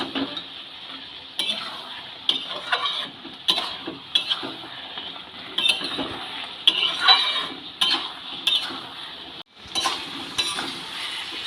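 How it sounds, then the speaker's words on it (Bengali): Spinach stalks tossed with fried spices in a pan give a steady, busy scraping and clinking of a utensil against cookware over a soft sizzle, with frequent sharp knocks throughout. "ভাজা মশলাটা দিয়ে শাকের সাথে খুব ভালো করে মিশিয়ে দিলাম।"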